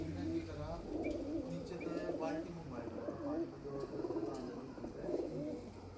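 Pigeons coo in low, repeated throaty calls close by, forming a steady murmur of cooing from a loft of breeding pigeons, with faint background noise throughout.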